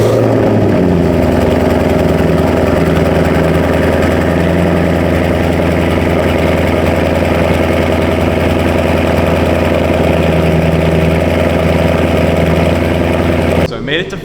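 A twin-turbo Ford Mustang S650 with factory mufflers fires up from cold and settles into a loud, steady, rumbling idle that runs close and unbroken for most of the stretch, then cuts off near the end.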